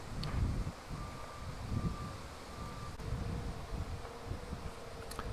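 Low, rumbling wind buffets the microphone in uneven gusts at a beehive, with a faint bee buzz and rustling in the background.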